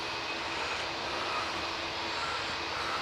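A TAP Airlines airliner departs a Manchester Airport runway with a steady broad roar of jet engines, holding a constant level throughout as it powers along, with no voices over it.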